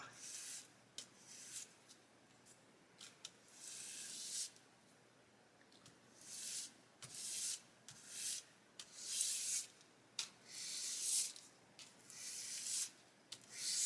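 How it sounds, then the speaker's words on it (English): A hard, flat sanding stick rubs back and forth over a darker glue patch, giving repeated close, dry scratchy strokes in irregular bursts with short pauses between them. "So we can just sand over that."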